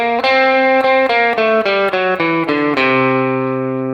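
Distorted electric guitar plays the Lydian dominant scale, the fourth mode of melodic minor, as eight single notes picked in steady succession, with the final note left ringing out. Clear and loud, no voices.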